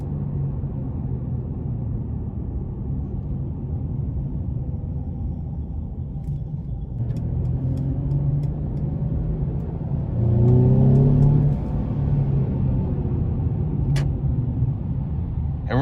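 A 2017 Mercedes-Benz C300 Sport accelerating hard from inside the cabin, the engine note climbing and rumbling through gear changes with a louder surge midway, steady road noise underneath and no talking.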